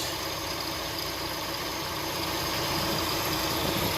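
A running Hyundai Tucson engine with the AC clutch engaged and a worn belt tensioner bearing, a steady close mechanical drone and whir without pauses, no talk.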